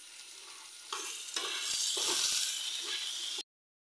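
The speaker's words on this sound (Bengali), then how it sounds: "চুলা অফ দিয়ে আমি আলুগুলো ভেজে নিতেছি।" Potatoes fry in a pan with a close, steady sizzle that swells louder in the middle, then cuts off abruptly.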